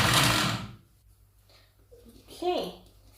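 A brand-new kitchen blender, used for celery juice, whirs loudly for about half a second and then stops, after which a voice talks close by.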